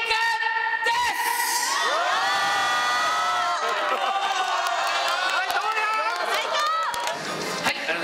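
At a ramen launch event in Japan, a live audience cheers and whoops in loud bursts of excited shouting, with raised voices mixed throughout.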